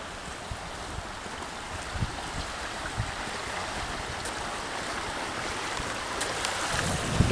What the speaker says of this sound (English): another creek.